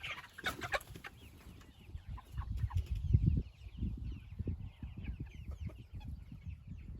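Chickens cluck and murmur close by, soft overlapping calls rising and falling in an irregular chatter, with an occasional rustle.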